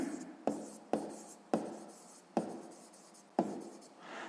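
Pen strokes on paper while a math solution is written out, seven crisp scratchy bursts at irregular intervals, close and distinct in a quiet room, with no talking.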